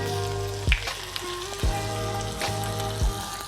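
Food sizzles steadily in a hot pan while a sweet tomato sauce is worked in, with a utensil clinking against the metal about every second over the constant frying hiss.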